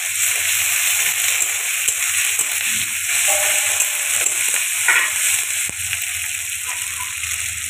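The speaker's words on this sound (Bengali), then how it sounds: "আদা রসুনটা পেঁয়াজের সাথে একটু ভালো করে ভেজে নেব" Ginger garlic paste frying with onions in a pan, a dense continuous sizzle with occasional stirring scrapes, steady and close with no speech.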